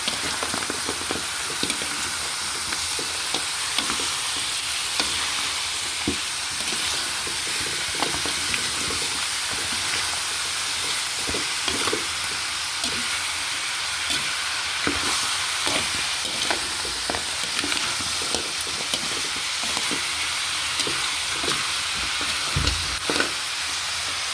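A goat head sizzles steadily in a pan with garlic and onions, a moderate frying hiss broken by frequent stirring scrapes and clinks throughout.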